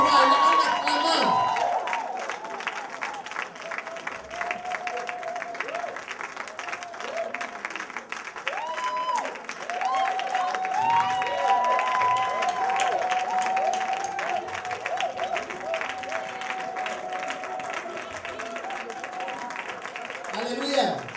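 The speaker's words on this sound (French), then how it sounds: "Merci d'avoir acclamé pour le pasteur parce que hier c'était son anniversaire." A church congregation applauds for the pastor, sustained clapping and crowd noise filling the room while a voice speaks over the applause.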